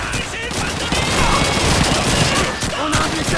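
Gunfire in the World War II shooter Call of Duty 2: a dense, continuous fusillade of overlapping rifle and machine-gun shots, with crackling reports and distant battle noise and no pauses across the few seconds.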